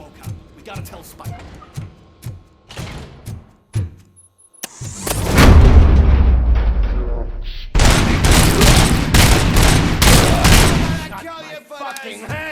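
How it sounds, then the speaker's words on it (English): Bursts of rapid gunfire and heavy booms erupt after a few sharp single shots in the video game Robocop: Rogue City, loud and sustained, with voices briefly audible at the start. "am I hearing gunshots?"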